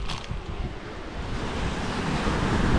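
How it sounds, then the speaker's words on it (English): Ocean waves break and wash continuously on the shore at Whitehills under a gusting sea breeze, with steady rumbling surf and wind buffeting the microphone, no voices. "the waves starting to break a little bit higher now"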